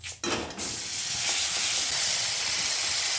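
Ginger-cumin paste with turmeric hisses and sizzles in a pan for a pomfret curry, starting with a few clatters and then settling into a steady, close, continuous frying hiss with no voices.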